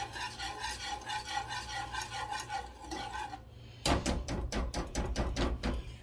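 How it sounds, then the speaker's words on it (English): A spoon stirs a thick cheese sauce in a pot, with repeated rhythmic scraping strokes, then a louder, sharper run of spoon knocks and scrapes near the end. "Now let's stir this around."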